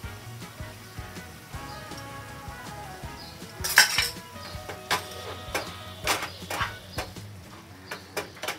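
A utensil clinks and scrapes against a pan while chicken kebab mixture is stirred, with intermittent metallic knocks over a low background hum and no voices.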